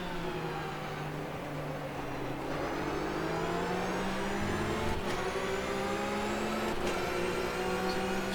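Flat-six race car engine in rFactor 2 at Palm Springs, revving up through the gears with rising then dropping pitch at each shift, loud and close, with other engines whirring around it.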